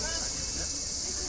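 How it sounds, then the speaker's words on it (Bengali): Steady high-pitched cricket chirping fills the air in front of the Sevok Kalibari temple beside the Coronation Bridge, a continuous shrill trill at moderate level with faint low rumble beneath. "আর একটা ঝিঝি পোকার ডাক"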